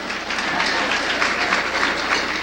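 Audience applause at an evening lecture in honour of Yvonne Brathwaite Burke rises as a dense, steady patter of clapping filling the hall for a couple of seconds.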